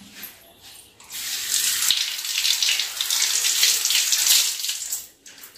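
Corn kernels are washed under running water, a steady splashing gush from a tap that starts after a second and runs for about four seconds before stopping.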